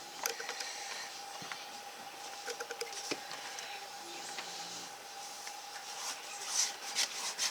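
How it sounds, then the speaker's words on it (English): Folded paper signatures for a handmade magazine journal rubbed down by hand, producing close, steady dry scraping and brushing strokes with a faint background hum. "Tucking those in if you need to, rubbing them down like that."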